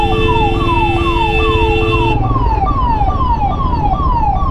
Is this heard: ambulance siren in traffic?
yes